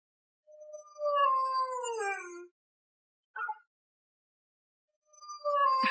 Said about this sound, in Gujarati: આ જો કૂતરાનો અવાજ બતાવે